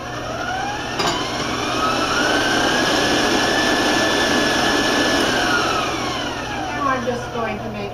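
An electric mixer runs steadily, beating butterscotch cake batter for a skillet cake in a bowl, a sustained close whirring hum that rises slightly in pitch as the speed goes up.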